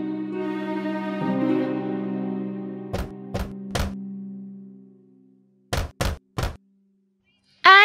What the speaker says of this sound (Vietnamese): và gõ cửa.